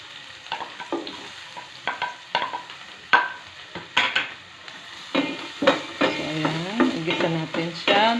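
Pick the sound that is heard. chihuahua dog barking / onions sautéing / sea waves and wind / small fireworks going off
onions sautéing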